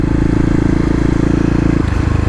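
A 2018 Kawasaki KLX250 dirt bike engine runs close and loud in a steady pulsing idle-like rhythm, with a brief clatter as it shifts near the end.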